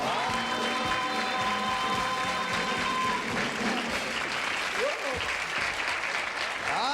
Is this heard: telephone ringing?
no